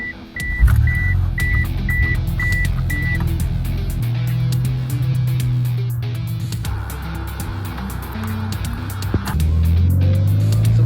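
A car rolls onto a freeway with a steady low engine drone and road rumble throughout, a repeating beep tone early on and a shift in engine pitch near the end as it picks up speed.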